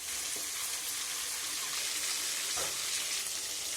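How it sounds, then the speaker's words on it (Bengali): Pieces of silver carp fish frying in hot oil in a pan: a steady, dense crackling sizzle that holds at a constant level throughout, with no voices. "বাকি মাছগুলো তেলের মধ্যে দেওয়া হয়েছে ভাজার জন্য।"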